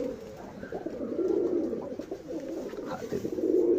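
Domestic pigeons coo in low, soft, repeated rolling calls close by, with a faint background voice now and then.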